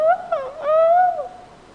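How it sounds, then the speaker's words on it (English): A peacock gives a single loud, wailing call near a farm, rising and falling in pitch with a nasal tone and fading out within a couple of seconds. "So such nice birds, peacocks"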